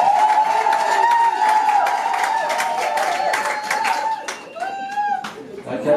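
Wedding guests in Cameroon applaud the bride: many hands clapping close and loud in a busy, rapid patter, with a sustained voice tone over it and a brief thinning near the end before clapping picks up again.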